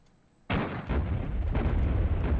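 Gunfire and a blast in the Duke Nukem video game: a sudden loud booming explosion erupts after a quiet moment and rumbles on with continuous crackling.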